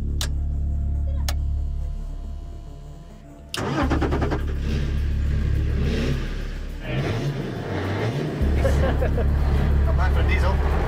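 A diesel rally car is driven hard off-road. The engine starts and revs, then roars steadily as it accelerates, loud and close, with people talking over it.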